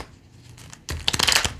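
A quick riffle of playing cards being shuffled, a short burst of flapping clicks after a quiet moment, close and crisp.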